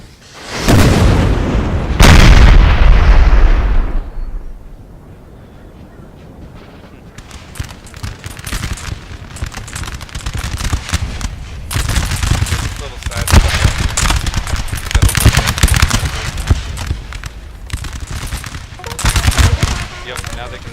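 Artillery and musket fire in a Napoleon Total War battle: heavy booming cannon blasts open the scene, followed by rolling, crackling volleys of gunfire and repeated bursts, with someone talking over parts of the action.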